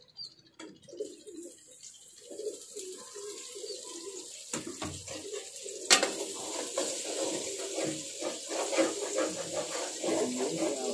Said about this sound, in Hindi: और प्याज का मैं तड़का बना लूंगी।